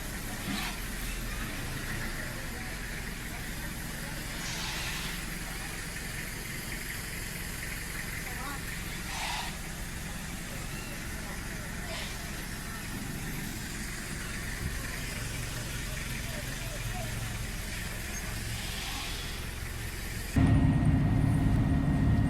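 Packed cars idle in the queue at the ferry terminal for Ometepe Island in San Jorge, Nicaragua, a steady low engine rumble under faint background voices, jumping abruptly louder near the end.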